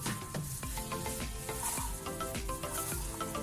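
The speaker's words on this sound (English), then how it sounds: "So I'm gonna fry it straight away." Marinated fish fillet frying in a pan, a steady close crackling sizzle with scattered sharp pops and light clatter, no talking.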